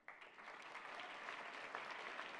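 An audience at a university fall convocation applauds, a steady, moderately distant wash of clapping that starts abruptly and holds evenly, with no voices on top.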